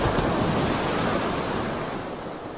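Steady sea waves wash and roar as one continuous broadband surge, fairly loud and unbroken, gently fading near the end, with no voices.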